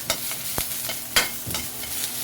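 Garlic and onion sauté in a pan for chicken adobo, with an ongoing sizzle and a few sharp scrapes as a utensil stirs them, close and moderately loud with no talking.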